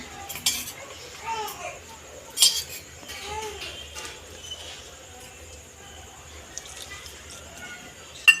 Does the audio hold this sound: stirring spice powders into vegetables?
yes